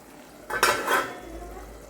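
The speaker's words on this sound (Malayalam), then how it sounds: "ഇടയ്ക്കൊന്ന് ഇളക്കി കൊടുക്കാം" Barnyard millet upma stirred in a pan with a spoon, a short scraping swish of cooked grain against the pan surface, brief and close, with a faint sizzle underneath and no talking.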